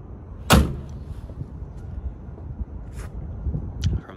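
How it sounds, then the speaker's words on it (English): A Hummer door shuts close by with one sharp, solid thud, followed by a few faint clicks and quiet shop noise. "Door's working."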